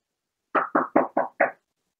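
Five quick, evenly spaced knocks on a door ring out crisply against otherwise silent surroundings.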